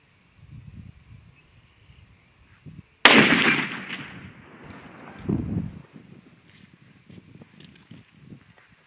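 A single sharp rifle report from a Remington Ultimate conversion with a 26-inch barrel cracks out loudly outdoors, followed by a long rolling echo and a second dull thump, with wind noise and soft shuffling before and after.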